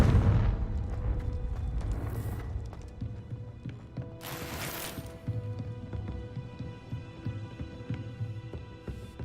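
The Confringo fire spell in Hogwarts Legacy lets out two sharp, bright bursts a couple of seconds apart, the second longer, over a low, throbbing hum of background game sound.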